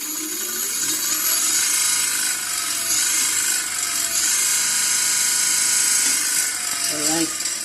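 A YKK controller's motor running after an E07 error fix, giving a loud, steady mechanical whir with ratcheting, gear-like texture that holds throughout.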